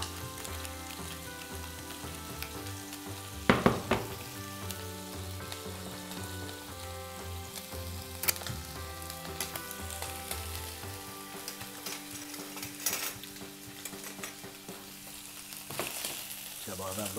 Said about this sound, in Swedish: för att blanda den här noga och få den riktigt luftig och fin